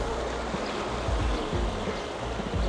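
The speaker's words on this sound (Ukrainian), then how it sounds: "з самого центра міста тече вода, отака от невелика річка в озеро" A small, clear river runs from a Swiss city centre into a lake, giving a steady close rushing and gurgling of flowing water, broad and continuous with no speech.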